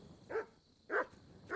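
Mutt, a dog in Kingdom Come Deliverance 2, lets out three evenly spaced, moderately loud barks against a quiet ambient game backdrop.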